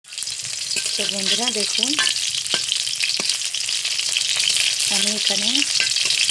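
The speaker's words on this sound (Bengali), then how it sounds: "কিছু পাকোড়াও ভাজি, চিকেন পাকোড়া।" Chicken pakoras sizzle steadily in a pan of hot oil, a dense, continuous frying hiss that holds for several seconds while a person talks over it in bursts.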